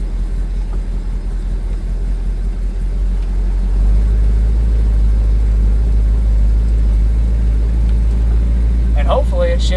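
Station wagon on its first drive of 2024, heard from inside: a steady low engine rumble under the cabin that lifts in level partway through as it pulls, with a person talking at the end.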